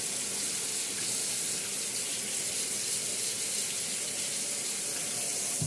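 Tap water runs steadily into a sink as a spoon is rinsed under it, a continuous close hiss of flowing water with no talking.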